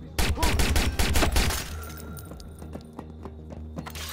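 Gunfire in the Watch Dogs video game comes as a loud, rapid burst of close shots over about a second and a half, then trails into fainter scattered metallic clicks and clatter.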